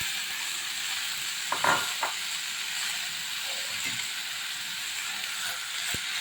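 Raw mango pieces softening in oil in a pan for a mango and ginger chutney, giving a steady soft sizzle and hiss with a few faint stirring scrapes, with no talk over it.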